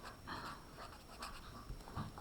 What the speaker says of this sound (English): that's my puppy getting a drink